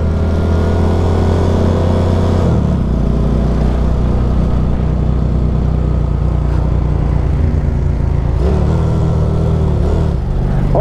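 A Honda Titan 150 motorcycle fitted with a V-twin engine drones loud and steady while riding on a highway, its engine note holding constant with slight shifts in pitch and heavy wind rush throughout.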